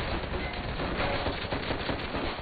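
Enemy gunfire rattles nonstop in the Call of Duty: World at War battle, a dense, loud barrage of overlapping automatic bursts and shots with no pause and no speech.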